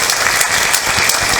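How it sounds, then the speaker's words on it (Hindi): Dense, loud applause from the audience at a Hindi comic poetry (hasya kavi) show, a steady wash of many hands clapping together with no talk over it. "एक बार ताली बजाओ जवाब चाहिए तो।"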